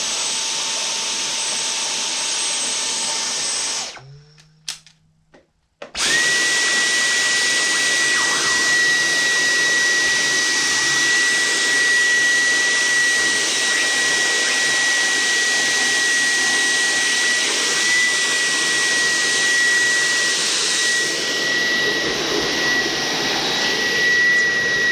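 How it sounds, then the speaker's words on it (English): A household vacuum cleaner fitted with a nozzle attachment sucks dust from the vent holes of a PS5 console, starting with a loud steady roar, cutting out briefly for a second or two, then resuming a constant high-pitched whine alone. "grab your vacuum with this attachment and then just vacuum these holes, and then it should suck out some of the dust."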